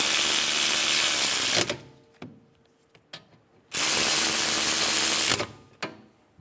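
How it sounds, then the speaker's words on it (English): Ratchet snugging down rear brake caliper bolts on a 2013-2017 Honda Accord: two loud bursts of rapid clicking, each about two seconds long, close up, separated by quiet metallic knocks and handling sounds. "Install the caliper bolts. Snug them down."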